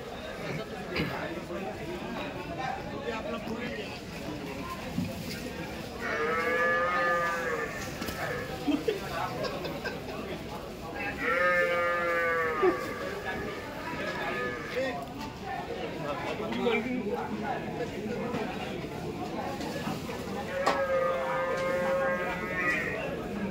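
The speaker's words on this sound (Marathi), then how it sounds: "या साजिद भाईची दावणीवर मित्रांनो तुम्हाला सर्व दुधाच्या म्हशी पाहायला भेटतील" Milk buffaloes at a buffalo market in Dhule give long, drawn-out bellowing calls, three of them widely spaced, over a continuous bed of crowd chatter and people talking nearby.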